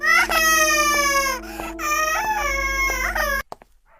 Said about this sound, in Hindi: ये बच्चे तो बहुत ज्यादा रो रहे हैं, ये तो चुप ही नहीं हो रहे हैं